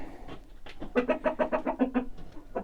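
An Amrox hen clucks after laying an egg, giving a run of about ten close, rhythmic clucks that rise into a louder cackle and then fade. The clucks are clear and come without speech.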